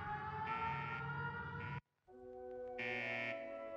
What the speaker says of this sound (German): was ist los? Ein Alarm.